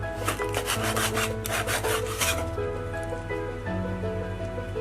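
A knife cutting through the mouth part of a pomfret fish head: close, rasping strokes of blade against flesh and bone in quick succession, then quieter scraping.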